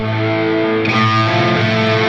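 Sustained, distorted music with a washy, lingering tail; the tone thickens and smears partway through as more reverb-like echo is blended in.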